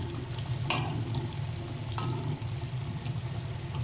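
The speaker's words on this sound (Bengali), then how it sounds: "সমস্ত মাছগুলোকে দিয়ে একটু হালকাভাবে নাড়াচাড়া করে দেব, যাতে সবকটা মাছের গায়ে সুন্দর মতো করে ঝোলগুলো লেগে যায়।" Tengra fish in a spicy gravy is gently turned in a pan, with a steady close sizzle and bubbling broken by two short scraping taps of the spoon.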